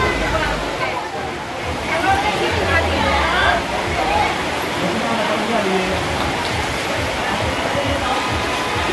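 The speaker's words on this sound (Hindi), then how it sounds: "बारिश होने लगी है" Steady rain pours down in a continuous, loud hiss at an outdoor bathing spot, while people talk and chatter underneath.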